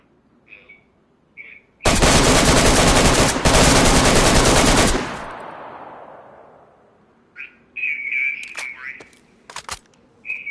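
Automatic gunfire in the video game DayZ fires at a wall in a loud continuous burst of about three seconds that echoes away, followed by a few scattered sharp shots, with someone talking quietly around them.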